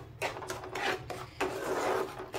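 Ground moong dal flour roasting in ghee is stirred in a pan, giving a few close, dry scraping strokes with short pauses between them.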